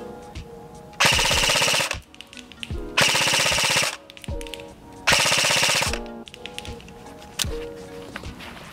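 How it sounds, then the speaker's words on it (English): DYTAC AK47 AK105 airsoft electric gun firing full auto outdoors at a tree target, three loud, close bursts of rapid mechanical rattling, each about a second long, separated by short pauses. "So, for fun, let's try a little full auto."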